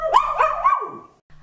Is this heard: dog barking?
yes